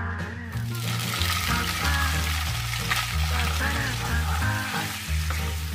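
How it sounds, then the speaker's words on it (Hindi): Paneer sautéing in desi ghee over a high flame gives a steady, continuous sizzle, with music playing underneath throughout. "थोड़ा हाई फ्लेम पे हम इसको फ्राई कर लेंगे"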